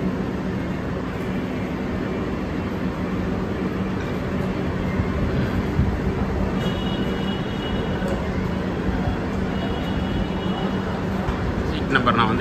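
Vande Bharat Express train on the Chennai to Bangalore route, a steady continuous rumble and rush of the moving train heard for twelve seconds with faint clatter, a constant fairly even roar with no clear speech.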